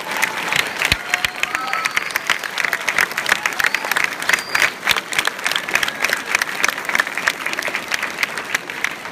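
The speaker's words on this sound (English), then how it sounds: "one more big round of applause for our guests today" Loud, dense applause from an elementary school audience thanking guests at an assembly, steady clapping with a faint crowd murmur throughout, no pauses.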